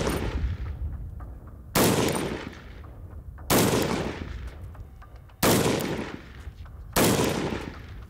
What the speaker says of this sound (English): We'll be starting with the LaRue OBR, which is the hardest gas gun. It is in the unsuppressed setting,